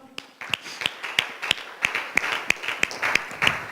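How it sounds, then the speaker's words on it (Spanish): Congregation clapping hands in praise during a church service, about a dozen sharp claps in a steady rhythm, fairly close and moderately loud over a soft room murmur. "Dele fuerte las palmas al Señor."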